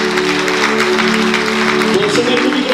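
An audience claps along during a live taraf folk music recital, dense rhythmic applause over a sustained accordion-like tone that shifts pitch near the end, loud and close.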